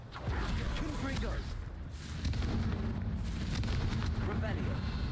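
Blasting-spell explosions from the game Hogwarts Legacy erupt as heavy, rumbling booms with whooshing bursts, loud and dense, while a voice talks over the action.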